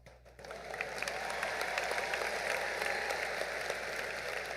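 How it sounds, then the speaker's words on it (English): An audience at a high school graduation ceremony breaks into sustained, dense applause that swells quickly and holds steady. "Let's give all these outstanding seniors another round of applause for their academic excellence."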